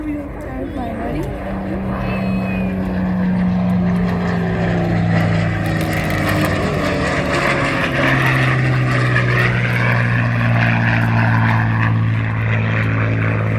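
A Supermarine Spitfire Mk IX with a Rolls-Royce Merlin V12 of 1650 cubic inches drones through an airshow flight display, a loud sustained engine roar whose pitch slides as the plane passes, with crowd noise and commentary-like voices underneath.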